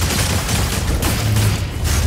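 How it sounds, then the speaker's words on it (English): Shuriken cannon fire from a mech in the PvP game Mecha BREAK, a dense continuous barrage of rapid shots layered with explosion booms and busy effects, loud and close throughout. "You just press and it will shoot. It's kind of like a shuriken cannon from the Eldar."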